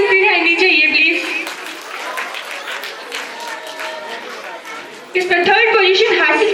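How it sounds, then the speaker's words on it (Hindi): An audience applauds at a government model senior secondary school's 2025 annual function in Bharian-Kothi, steady crowd clapping that runs throughout while a presenter speaks loudly over it through a sound system. "तालियां बजती रहनी चाहिए प्लीज।"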